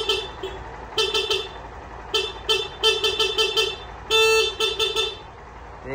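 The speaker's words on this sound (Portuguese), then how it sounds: "Buzina." Horn on a Honda NC700 motorcycle blares in repeated short toots, several quick bursts and one longer blast, loud and close with no voices.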